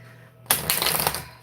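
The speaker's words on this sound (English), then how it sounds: "let's get into a deep shuffle" A deck of tarot cards is shuffled close up, giving a sudden burst of rapid riffling flutters that fades out over about a second.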